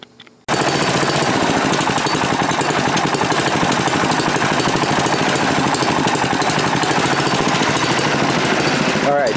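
A small scrapyard go-kart engine with a cheap carburetor idles after starting abruptly, chattering loudly and continuously close by, its rapid firing rhythm unsteady as it hunts for a stable idle.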